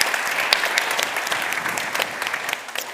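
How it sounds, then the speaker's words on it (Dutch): A conference audience claps warmly and steadily, a dense patter of many hands at even loudness that thins slightly toward the end. "Dus ook een heel groot applaus voor hun."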